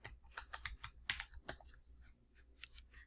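Quick typing on a computer keyboard, a short burst of soft, close key clicks in uneven rhythm with a brief pause, quiet and without talking.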